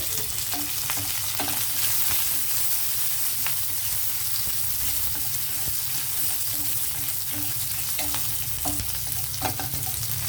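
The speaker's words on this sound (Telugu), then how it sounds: "ఇది కొంచెం వేగనిద్దామండి తాలింపు తాలింపు చక్కగా వేగితేనే కదా ఆ కూరకి రుచి వస్తుంది" Garlic, green chilli, cumin, mustard seeds, curry leaves and coriander fry in hot oil as a tempering for an ivy gourd, chana dal and coconut curry, giving a continuous close sizzle with no talking.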